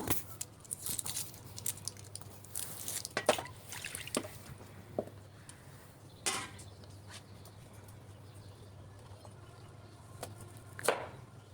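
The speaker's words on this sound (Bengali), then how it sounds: "এদিকে পেঁয়াজগুলা কুচি কুচি করে কেটে নিব" Onions being finely diced with a knife for a spicy village-style mashed fish dish, scattered soft cutting taps and scrapes at an irregular pace over a low background hum, close but faint, with no talking.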